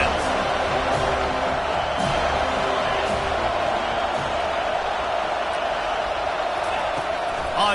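A stadium crowd roars in College Football 25, a steady, loud, dense wash of noise throughout with scattered thumps and whoops, and a commentator talks over it.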